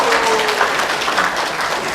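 A packed audience at a Korean real estate presentation event in Orange County gives sustained applause for the event staff, a dense, even wash of many hands clapping at once.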